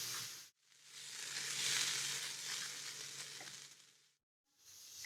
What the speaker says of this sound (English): We'll saute it for 5 minutes until the onion turns soft